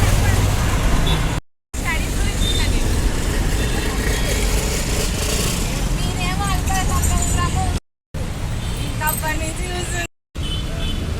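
Lorries and other traffic crawling slowly along a road near a bus stop, a continuous broad rumble of engines close by, with people talking over it.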